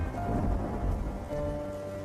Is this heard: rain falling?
yes